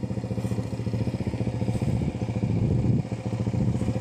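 Quad bike engine running steadily in third gear, a close, continuous mid-pitched drone with a fast rhythmic pulse throughout.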